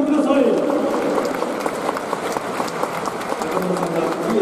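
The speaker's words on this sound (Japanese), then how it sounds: "拍手でお迎えください。" Stadium crowd applauding at a professional baseball game between the Chunichi Dragons and Seibu Lions as a former PL Gakuen coach takes the mound for the ceremonial first pitch; steady, broad clapping fills the space with a faint murmur beneath.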